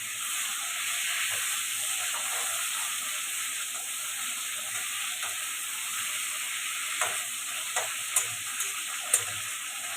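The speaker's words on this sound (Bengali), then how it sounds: "হালকা ভেজে নিতে হয় পমফ্রেট মাছটাকে, হালকা ভাজতে হবে।" Pomfret fish lightly frying in a pan gives off a continuous, even sizzling hiss, with a few sharp spatter ticks near the end and no voices.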